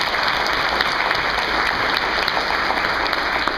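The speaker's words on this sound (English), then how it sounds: "So let's give them another round of applause." An audience at a Chamber of Commerce awards breakfast applauds, a dense, steady wash of clapping from a crowd that stays loud and even from start to finish without any speech.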